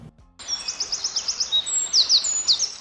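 A bird chirps in a quick series of bright, high tweets, fairly close and clear. Shorter calls then repeat at an uneven pace over a faint outdoor hush, with no voices.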